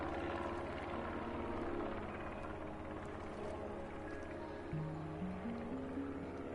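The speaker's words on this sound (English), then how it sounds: "Where's that plane? I can hear it." A propeller plane drones overhead in the Placid Plastic Duck Simulator game, a steady, moderately loud engine hum running throughout alongside soft tonal game sounds, with a rising stepped tone near the end.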